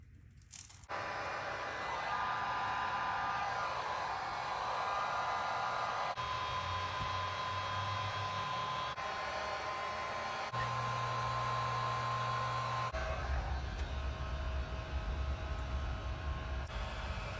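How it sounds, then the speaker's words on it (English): A heat gun blows steadily for a long stretch while stripping decals from a C5 Corvette, a continuous fan-like hiss and hum with slight shifts in pitch, close and alone. "That heat gun's gonna be putting in work though."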